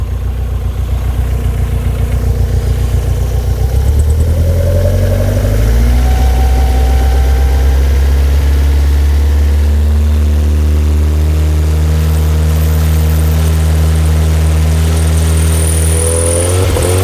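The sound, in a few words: car engine idling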